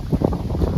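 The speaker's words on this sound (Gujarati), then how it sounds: "તો બહુ જોરથી પવન આવે છે." Strong wind gusting across the microphone outdoors on a farm, a steady loud rushing buffet with uneven surges throughout, no voices.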